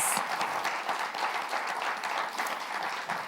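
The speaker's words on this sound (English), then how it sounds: "let's give all those folks a warm round of applause" An evening event audience gives a warm round of applause, dense sustained clapping from many hands filling the room without a break.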